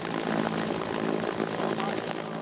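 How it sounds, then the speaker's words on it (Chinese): Helicopter circling over the sea during a search for students swept away by waves near the breakwater at a Qieding beach, its steady rotor drone loud and continuous throughout with faint voices beneath. "直升机在空中盘旋"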